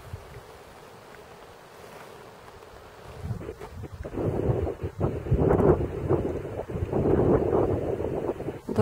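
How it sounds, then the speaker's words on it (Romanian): Wind blowing on Piatra Mare mountain among fir trees, a soft rushing that rises from quiet to a stronger, gusting roar in the second half, with no voices. "Doar vântul se aude."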